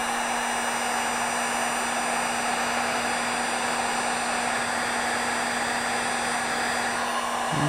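A heat gun blows hot air onto adhesive tape on a Scorpion EXO R420 helmet chin mount, a loud, steady, close whooshing roar with a constant hum, unbroken throughout.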